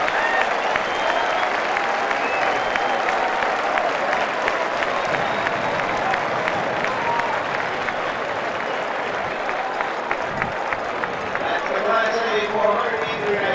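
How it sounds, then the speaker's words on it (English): Crowd at the 1994 IHSA boys track and field state finals in Illinois applauding and cheering loudly and steadily throughout, a dense wash of clapping with a commentator talking over it. "And this crowd is on its feet, applauding that great effort."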